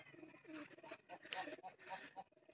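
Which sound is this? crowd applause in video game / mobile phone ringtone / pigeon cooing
pigeon cooing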